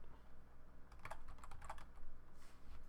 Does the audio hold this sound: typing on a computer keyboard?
yes